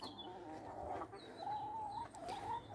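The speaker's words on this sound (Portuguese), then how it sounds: "Reparem aqui nesta galinha." A backyard chicken gives soft, drawn-out clucks and murmuring calls close by, quiet and intermittent over a low outdoor background.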